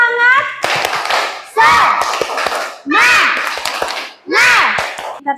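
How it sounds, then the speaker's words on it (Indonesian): A school class doing the rhythmic 'tepuk semangat' spirit clap, with sharp hand claps mixed into loud bursts of children chanting together in repeated phrases. "Ayo, kita tepuk semangat dulu."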